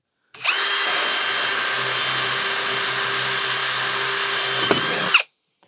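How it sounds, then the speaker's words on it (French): AEG BSB18C3BL cordless drill boring through 18 mm MDF with a 10 mm wood bit, in second gear on plain drilling mode without hammer action: one steady, loud, high motor whine lasting about five seconds, cutting off abruptly. "Je vais mettre cette fois-ci en vitesse 2 et sur la position perçage sans percussion"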